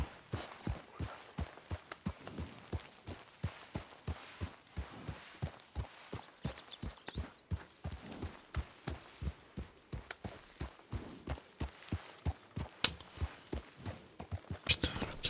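A video-game horse's hooves clip-clop in a steady, evenly spaced rhythm of soft, close thuds that run throughout, with a few sharper clicks toward the end.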